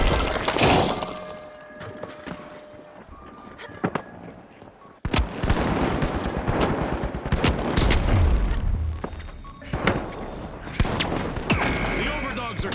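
In the video game The Finals, a grenade detonates with a loud boom, followed by dense bursts of gunfire and shattering debris, while a commentator talks over the action.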